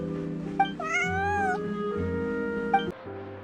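A cat in Genshin Impact gives a drawn-out, wavering meow at close range over soft background music, with brief tonal chimes just before and after it and no talk.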